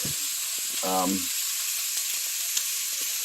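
Honey garlic pork bites sauté in a pan with a constant bright sizzle close by, and a brief voice sounds near the start.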